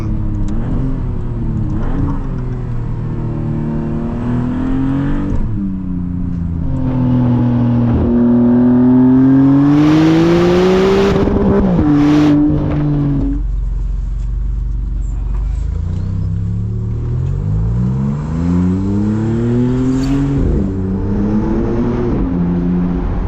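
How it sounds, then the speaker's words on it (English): A 2026 Maserati MCPura engine revs at full throttle from inside the car, rising and falling through gears with loud swelling engine notes and road rumble, over a voice speaking throughout. "So that was full throttle then, just to see what sort of response it has."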